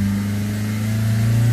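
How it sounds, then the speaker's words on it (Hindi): A Hyundai Creta engine, just after a DPF cleaning, runs with a loud, steady close-up drone and a slight lift in pitch partway through. "थोड़ा सा हल्का सा रेस देना भाई जरा सा।"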